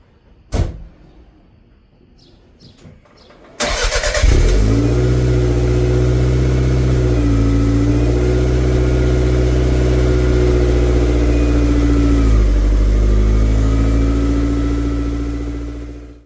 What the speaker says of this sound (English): One of a few other things I did install is this TCS single muffler dual exhaust.